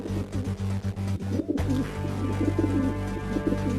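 Cartoon pigeons coo in a steady chorus of throaty calls, with a brief pause before the cooing resumes over a low hum.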